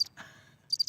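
A cricket-chirping sound effect gives a brief high chirp, a pause, then a quick run of three rapid chirps in an otherwise quiet room.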